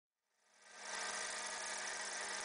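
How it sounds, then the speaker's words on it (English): Lathe milling a steam engine cylinder using a vertical slide, a steady broadband machining whir that fades in over the first second, then holds loud and even. "I am milling in the lathe using the vertical slide"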